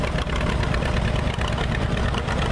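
An old John Deere B tractor engine runs loud and close at a plow day on hard ground. Its dense, rumbling chug holds steady and unbroken through the short stretch.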